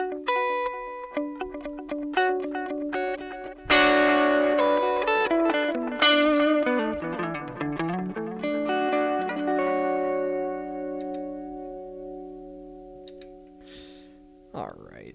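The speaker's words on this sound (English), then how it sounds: "let's next just dial in the tape echo here." Electric guitar through a Zoom 70CDR tape echo set to a dotted-eighth delay: picked notes and chords ring out, each trailed by rhythmic repeats that fade gradually into a long decaying tail, loud and close with no talking.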